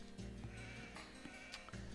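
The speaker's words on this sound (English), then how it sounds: "Oh, yay, more sheep." Sheep bleat in the video game Age of Empires II, several short, quiet bleats in quick succession over faint in-game background sound.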